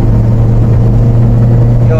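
The 1.8-litre engine of a 2001 Toyota Altis 1.8G, with its engine harness just replaced, hums steadily and close as revs settle after a gear shift, with someone talking over it.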